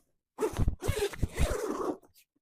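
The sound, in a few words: zipper being opened on Lift5 eFoil bag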